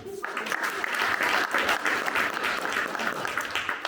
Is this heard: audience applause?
yes